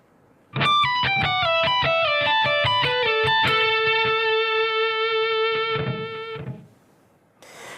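A lick from a guitar solo: a fast run of clean, bright single notes descending and climbing, ending on a long sustained note before a brief rustle, played close and alone.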